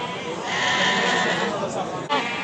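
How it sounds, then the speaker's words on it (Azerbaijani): Lambs bleat at a livestock sheep market in Beyləqan, a drawn-out wavering bleat heard close amid people talking and general market chatter. "Əziz qardaşlar, bax belə quzular var."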